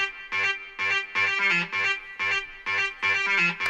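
A short, plucky synthesizer arpeggiator patch voiced to mimic a distorted electric guitar plays a choppy rhythmic pattern of bright, gritty stabs, repeating in clipped bursts with gaps between them, with no voices over it.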